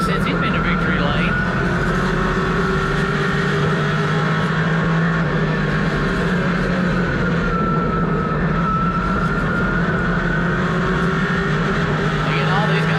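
Race cars circling Hickory Motor Speedway, a steady loud engine drone with sustained pitch that shifts slightly as cars pass, running continuously beneath a commentator's talk.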